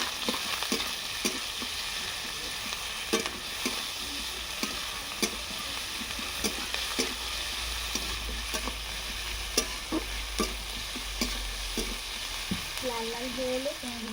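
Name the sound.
frying chopped garlic and onion in oil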